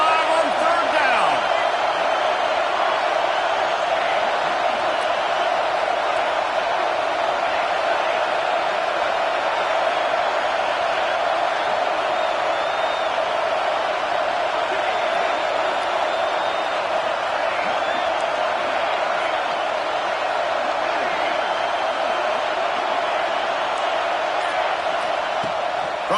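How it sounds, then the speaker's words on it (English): Ohio State Buckeyes football stadium crowd roars on a third-down play, a continuous dense wall of cheering and noise that holds steady throughout, with a commentator talking over it. "The Buckeye crowd alive on third down."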